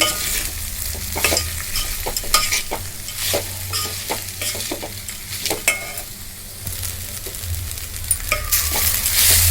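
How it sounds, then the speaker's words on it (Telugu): Soaked poha is stirred in a hot pan for atukula upma, with repeated spatula scrapes and clatter over a continuous light sizzle. "ఇప్పుడు ఇందులో అటుకులు వేసుకొని ఒకసారి కలుపుకుందాము"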